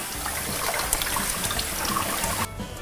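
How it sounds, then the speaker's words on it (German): Cooked beans being drained from a pot in a kitchen: a steady loud rush and splash of water pouring out for over two seconds, close by, then a sudden drop to a quieter trickle. "Die Bohnen sind gar, ich schütte die mal ab"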